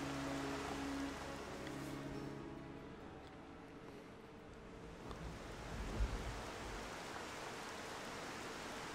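Steady rain falls in the video game Xenoblade Chronicles, a constant hiss of drops with a soft, wave-like wash beneath, unbroken for the whole stretch.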